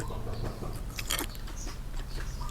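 Crisp baked vegetable chips, including green radish, being bitten and chewed up close, with light crunches that sound crisp but not hard.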